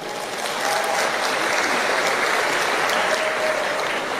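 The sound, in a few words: applause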